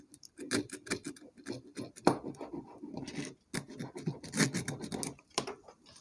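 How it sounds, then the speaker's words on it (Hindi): A metal inverter connector pin being scrubbed clean before soldering, heard as close, quick scratchy rasping strokes in short irregular bursts with brief pauses between them. "इसलिए इसको हम पूरी तरह से रगड़ लेते हैं।"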